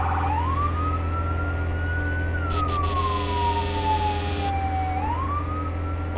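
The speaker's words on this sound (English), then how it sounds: "It's good that we don't need the sirens on the whole time." A wailing fire engine siren in the game Firefighting Simulator, sweeping slowly up and down in pitch over a steady low engine drone, loud and continuous throughout with a brief burst of higher noise partway through.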